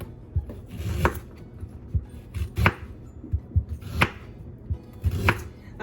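Unpeeled, scrubbed ginger chopped with a knife on a board: close, crisp thuds repeating in an uneven rhythm about once a second, with quieter cuts in between and no talking.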